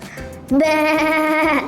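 A single drawn-out bleat, wavering and nasal, lasting about a second, preceded by faint background sounds.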